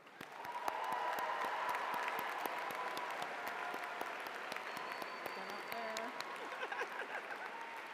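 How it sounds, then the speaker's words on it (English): A large audience at the Yale School of Public Health diploma ceremony gives a sustained, even round of applause for the doctoral and MS graduates. The clapping is dense and steady, with faint crowd murmur underneath. "Please join me in recognizing them with a round of applause"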